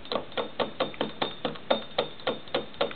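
A homemade vintage solenoid engine runs alone in steady rhythm, a sharp clack roughly every quarter second, about a dozen even mechanical knocks close to the listener.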